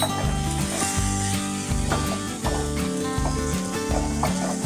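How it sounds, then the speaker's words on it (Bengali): Beet and carrot fry in oil with turmeric, cumin and coriander powder for a Kolkata street-style veg chop filling, giving a steady close sizzle with occasional stirring scrapes over a rhythmic backing beat. "সমস্ত মশলাগুলো দিয়ে একসাথে খুব ভালো করে একটু কষিয়ে নেব"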